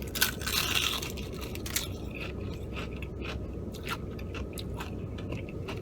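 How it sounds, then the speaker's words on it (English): Crunchy spicy Popeyes fried chicken thigh being bitten and chewed close to the mic inside a car, a run of crisp crackling crunches, loudest at first then steady, with no talking. "but I love that it's crunchy. Y'all hear the crunch?"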